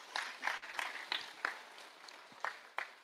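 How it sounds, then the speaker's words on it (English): A sparse round of applause at a Christmas luncheon for an old boys' and girls' association, a small group clapping faintly with distinct separate claps and uneven gaps. "You can give her a round of applause."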